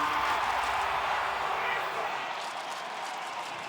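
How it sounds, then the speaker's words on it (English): A large esports arena crowd at a Counter-Strike major quarterfinal surges into sustained cheering, a loud dense roar that holds steady, then eases slightly toward the end. "listen to that crowd surge"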